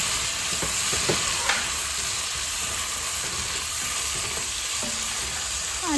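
Onions and tomatoes sizzling and frying in a pan for a simple beef stew, a steady close hiss throughout with occasional stirring clinks and scrapes, no talking.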